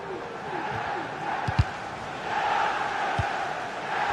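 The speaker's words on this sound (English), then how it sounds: "You'll just listen to this crowd." Football stadium crowd keeps up a steady, broad roar of cheering and chanting throughout, with a couple of brief low thumps rising above it.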